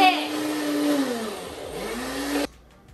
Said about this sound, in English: Once all your basil is in your blender, you're going to add in your pine nuts.